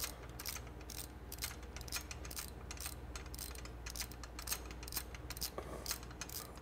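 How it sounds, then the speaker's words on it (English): A ratchet snugs an aircraft IDG quad ring bolt, giving a steady run of quiet, quick clicks over a constant mechanical hum. "And now we can begin to snug our quad ring bolt."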